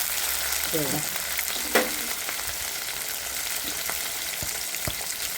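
Chillies and crushed garlic sizzle in hot oil in a pan, a steady crackling fry with occasional spoon scrapes and a sharp clack, no voices.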